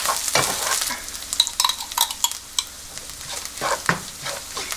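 Tamarind sauce for stir-fried crab sizzles steadily in a pan over medium-low heat, with scraping stirs and occasional spatters up close; no voices.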